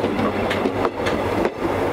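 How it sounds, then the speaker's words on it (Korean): A train departing Bukcheon station in Hadong rattles along with rhythmic clickety-clack of wheels over rail joints, loud and close, with no voices. "여기 할머니들의 삶을 싣고서 이렇게 기차가 떠나네요."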